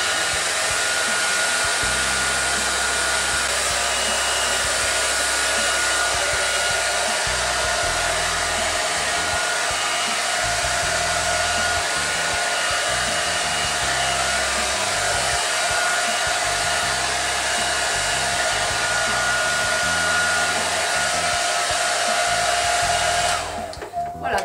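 A hair dryer blows steadily on synthetic hair while a brush works through it. The loud, continuous rush stays close and unbroken for over twenty seconds and cuts out at the very end.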